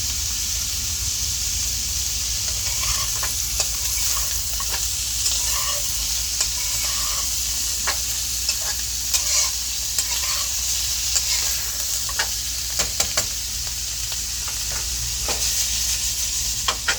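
Broccoli stir-fry sizzles loudly and steadily in a pan while coriander leaves are stirred in, with a constant hiss broken by occasional light clicks and scrapes of stirring.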